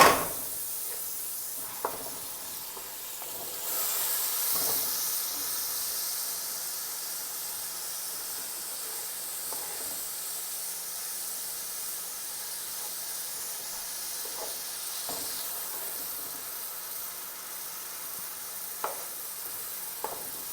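Garlic, ginger and whole garam masala spices fry gently in a pan for matar pulao, a steady soft sizzle and hiss with occasional spoon scrapes and clicks, fairly quiet and unbroken, no voices.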